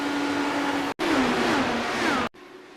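IndyCar race cars from a racing video game at Nashville scream past at high revs, their engine pitches sweeping and shifting, broken by two sharp cuts, the last leaving a fainter engine drone.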